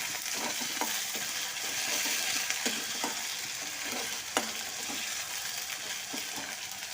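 Onion with ginger garlic paste frying in oil in a pan, giving a continuous hissing sizzle with occasional light spatula taps and scrapes, near and steady with no voices.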